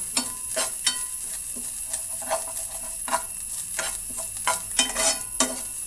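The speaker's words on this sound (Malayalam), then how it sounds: "തേങ്ങയൊക്കെ വറുവായി വരാനായിട്ടുണ്ട്" Grated coconut roasting in a pan, a dry crackling sizzle with repeated short scrapes and taps of stirring, close and fairly loud.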